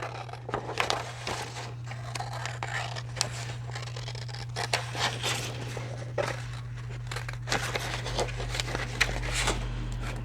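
Scissors snip repeatedly at close range, with irregular cutting strokes and crinkling paper while making playing cards, over a steady low hum.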